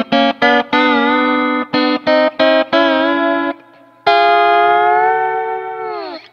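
A Paoletti lap steel guitar plays clean, sustained notes with smooth slides and harmonic overtones, a series of short phrases followed by a long gliding note that slowly fades.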